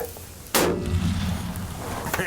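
A soldier fires a gun once: a single sharp, loud report at close range that cuts through quiet and rings out into a long rumbling decay.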